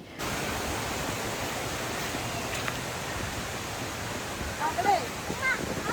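Meenmutty waterfall beside an Ayyappa temple, a steady, even rush of falling water filling the whole stretch at moderate loudness, with a few faint birdlike chirps near the end.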